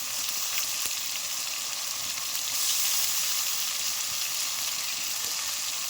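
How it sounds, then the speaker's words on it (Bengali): Tomato and ground spice paste fries in hot oil in a pan, a steady close sizzle with occasional soft stirring scrapes and no talking. "ভালো করে কষে নেব তেলের উপরে"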